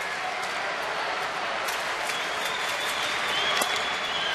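A lively baseball crowd applauds and cheers steadily throughout, a dense, continuous wash of clapping filling the stadium at an even level.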